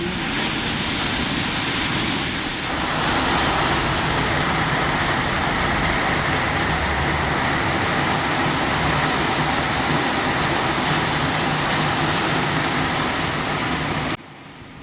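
Heavy, wind-driven rain pours down in a loud, unbroken roar that lasts nearly fifteen seconds and then cuts off abruptly.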